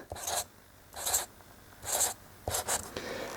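Words are handwritten with a pen on paper in a few separate scratchy strokes, close and fairly quiet, with pauses between them and no talking.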